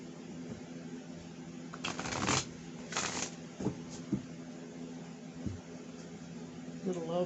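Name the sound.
shuffling tarot cards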